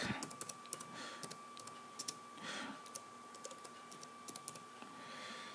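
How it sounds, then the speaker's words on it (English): Typing on a computer keyboard, quick irregular bursts of light key clicks close up and fairly quiet, with short pauses between runs and no talk. "I'm gonna type in another one real quick."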